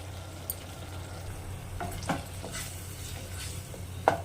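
Mushroom curry with freshly added tomato paste sizzles steadily in a hot pan, with a few sharp scrapes and clanks from a spoon stirring through it, loudest near the end.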